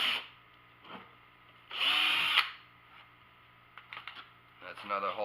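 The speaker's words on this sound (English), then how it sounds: "you want to go in at an angle so that you can get your rivet gun in" Drywasher being upgraded with a rivet gun and drill: a sharp burst of whirring drilling in the middle, then scattered clicks and short mechanical snaps, close and moderately loud, with quiet gaps between.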